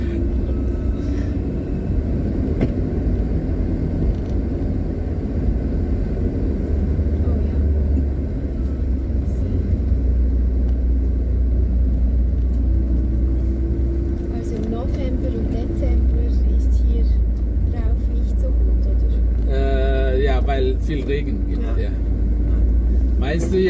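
A Suzuki car climbs the steep mountain road from Pusuk to Sembalun, its engine a steady low rumble throughout, with people talking over it and a brief rattle near the end.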